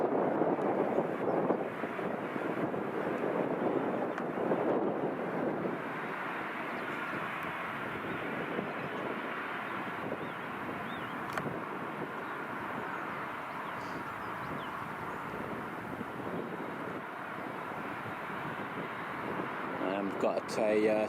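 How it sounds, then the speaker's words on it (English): TUI Boeing 737-800 taxiing at Birmingham Airport, a steady distant jet engine rumble and whine with some wind noise on the microphone, heard under a commentator's voice. "Got a TUI 737-800 taxiing out for Arrecife"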